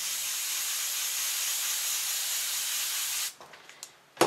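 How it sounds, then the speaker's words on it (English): A Copic airbrush system sprays in a steady, close, even hiss for about three seconds, then cuts off, followed by a few small handling clicks. "You can use an airbrush system with them. And here I have this Copic airbrush system."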